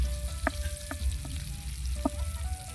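Chicken liver frying in a pan, a soft continuous sizzle under a low background hum, with a few short clinks of a utensil against the pan.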